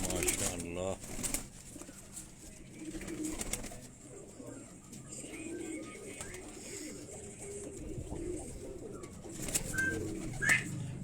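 Low, soft cooing rises steadily from pigeons kept by a Quetta fancier, among them chapra and sira birds, with a few rustling and flapping sounds near the start and end.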